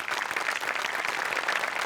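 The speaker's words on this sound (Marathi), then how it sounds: "ही सिरीज सुचल्याबद्दल सचिन मोठ्यांसाठी टाळ्या वाजवल्या पाहिजेत" An audience applauding in a hall, a steady, dense wash of many hands clapping at moderate volume throughout, with no voices standing out.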